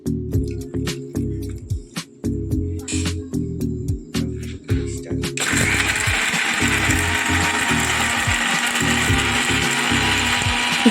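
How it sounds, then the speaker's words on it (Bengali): A kitchen mixer grinder works spices, dried chillies, ginger, garlic, onion and tomato into a fine paste: a run of sharp rhythmic clicks and short pulses, then a steady, loud whirring grind for the final seconds. "গ্রাউন্ডারে দিয়ে মশলাগুলোকে একটা সুপার ফাইন পেস্ট বানিয়ে নেওয়া হলো"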